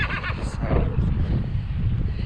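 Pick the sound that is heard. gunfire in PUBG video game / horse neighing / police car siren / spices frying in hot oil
horse neighing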